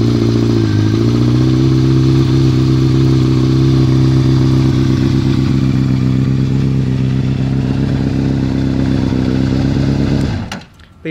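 A motorcycle fitted with a keyless remote-start security system idling loudly and close with a steady low rumble, then shutting off abruptly near the end with a brief clatter.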